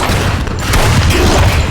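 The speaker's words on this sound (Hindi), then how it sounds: "गोलियों की बारिश हो रही थी" Dense rapid gunfire rains down continuously as a loud, booming fusillade in a Hindi audio drama, with no talk over it.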